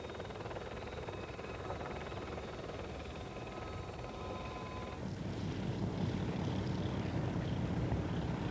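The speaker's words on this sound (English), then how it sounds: "the first of the helicopters this afternoon, the Gazelle from the Silver Eagles, that's the Army team" An Army Silver Eagles display team Gazelle helicopter flies at the Biggin Hill air show in 1993, a steady distant rotor and turbine drone swelling slightly louder partway through, with wind noise and no talk.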